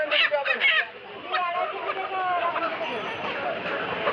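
Chickens at a market cluck and squawk in short, repeated bursts nearby while people talk over them during rain.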